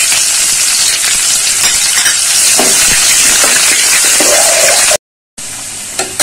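Chopped onion sizzles loudly in hot oil in a kadai, a continuous close hiss with faint stirring scrapes, broken by a brief silent cut near the end before the sizzle resumes.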